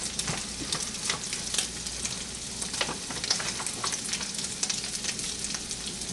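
Heaping tablespoon of flour stirred into hot oil for sweet milk sausage gravy, a continuous close sizzle with quick irregular scraping and stirring clicks, no voices.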